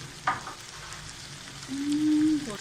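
Finely chopped green chillies go into hot oil with mustard seeds, making a steady close sizzle with faint clinks and no talking.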